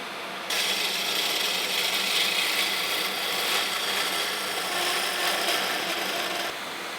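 A wooden sword handle is filed flat with steady rasping strokes, a loud, close, continuous scraping of file on wood that runs for several seconds and stops abruptly.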